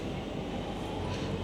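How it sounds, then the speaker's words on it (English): A train rolls along the rails with a steady, loud rumble and a faint rhythmic clatter, heard from inside a carriage with no voices. "Finally on the train"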